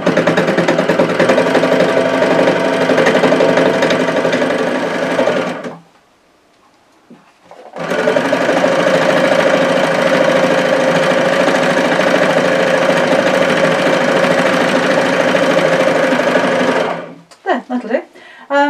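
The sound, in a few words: needle felting machine felting orange roving yarn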